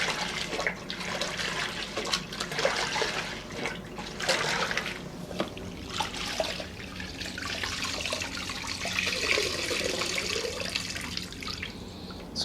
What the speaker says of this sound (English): Some nice hot water today with that new water heater.